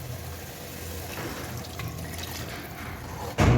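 Water poured into a pot of mutton biryani masala, a soft continuous liquid rush with a sharper splash or thump at the end.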